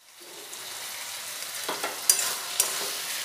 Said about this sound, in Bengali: পালং শাকটা খুব ভালোভাবে কষানো হয়ে গেছে